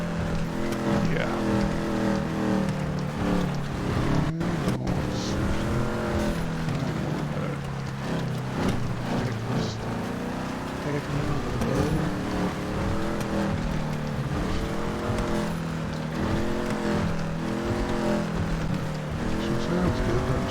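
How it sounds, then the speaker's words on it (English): In a roleplay video game, a Ford Mustang's engine runs continuously with a revving, rising and falling drone under steady road and tire noise. "Mustang is running. Oh, she is sounding good."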